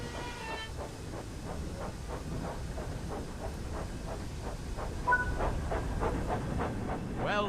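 Thomas the Tank Engine steam locomotive in Train Sim World 5 pulling away, a steady chuffing beat with regular exhaust pulses and hiss under a constant low rumble, picking up slightly toward the end.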